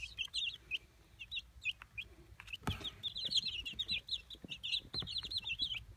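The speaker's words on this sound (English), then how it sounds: "They like chirping a lot." Young chicks chirp in a rapid run of high, thin peeps, close and fairly quiet, with one brief scuffling knock partway through and faint low rumble underneath.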